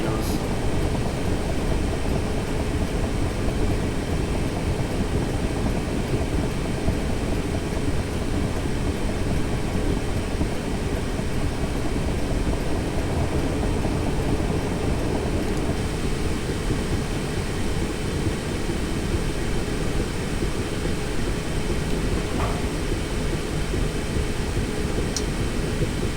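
Train passing on the Guildford to London Waterloo route in Train Simulator 2018: a continuous, even rail rumble that holds steady for the whole stretch, with a slight change in tone partway through. No voices.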